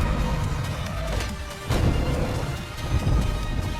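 Thunderstorm in an animated excavator and racing-car cartoon: heavy rain hisses steadily throughout while rumbling thunder swells and cracks loudly near the middle, dense and close with no talk.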